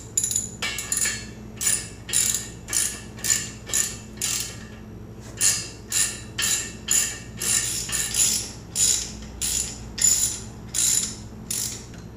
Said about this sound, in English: just to give me some extra leverage to break that bolt loose.